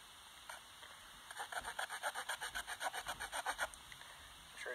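A Victorinox Farmer knife blade makes a quick run of short, rhythmic rasping cuts as it carves into wood, faint and close, after a brief pause.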